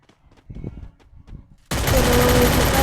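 Rapid automatic gunfire from a gun in the Nutcracker video game bursts out loud and continuous after a second or so of quieter game sounds.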